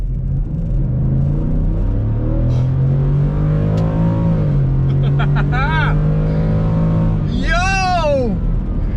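A stock truck with a Coyote engine and rear locker engaged accelerates hard, its loud engine note rising steadily and droning on, with brief voices breaking in near the end.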